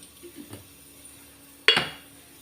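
A metal kadai set down on a stove with one sharp clank after a few faint soft knocks, followed by a short fading ring, with no voices.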